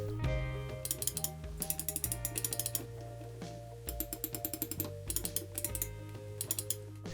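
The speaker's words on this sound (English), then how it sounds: "here's how the mouse sounds like." A computer mouse with Omron switches and a rubberized scroll wheel clicks in quick, crisp bursts and short runs of ratcheting scroll notches, close and alone with no talk.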